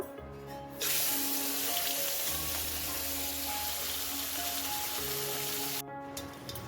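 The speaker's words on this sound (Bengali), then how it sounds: "এই মাছটা ভাজা হয়ে গেছে, বাকি মাছগুলো আমি ভেজে নেব।" Fish fries in hot oil in a wok with a loud, steady sizzle that starts abruptly after a brief quieter moment and keeps up evenly before dropping off at the close, with no voices.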